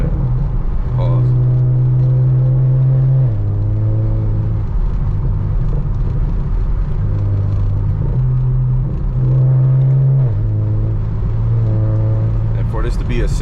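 A BMW 335i with a single turbo and six-speed automatic pulls hard through the gears, engine note climbing and dropping with each shift as a steady rumble under light talk from inside the car.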